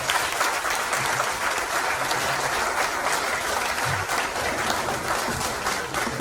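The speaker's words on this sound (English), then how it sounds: "Let us clap" Audience applauding at a golden jubilee celebration, sustained dense clapping from a crowd held at an even level from start to finish.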